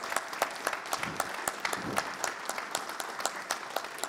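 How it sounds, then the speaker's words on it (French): An audience at a public debate applauds the speakers, steady, moderately loud clapping from a room full of people, with sharp individual claps standing out above the crowd's continuous patter. "On peut peut-être applaudir nos intervenants."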